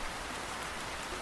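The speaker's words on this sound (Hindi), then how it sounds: "ये बारिश कितना ज़्यादा खूबसूरत है ना" Steady rain falls in a cartoon forest, a dense, even hiss of drops on surfaces that fills the moment without pause or voices.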